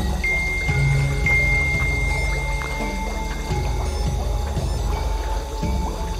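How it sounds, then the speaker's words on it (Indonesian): A bubbling natural well in a village setting releases air bubbles through water, giving a dense, continuous gurgling and plopping at close range with a steady low rumble. "karena mengeluarkan gelembung-gelembung udara dan suaranya berkutuk-kutuk"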